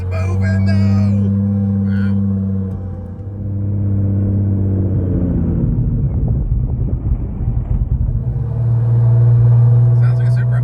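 A Dodge Hellcat with a swapped-in 2JZ engine runs with a low, steady rumbling drone, swelling into a rougher rev partway through before settling back, with some wind noise.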